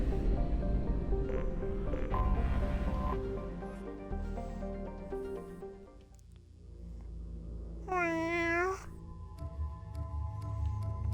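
A cat meows once clearly in the middle of a game session, a rising and falling drawn-out call over a quieter stretch, with music and game sounds before it and softer background after.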